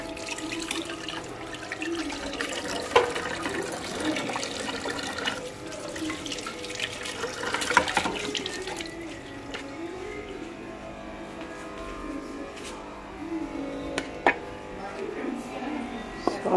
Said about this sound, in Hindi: टमाटर धो लेते हैं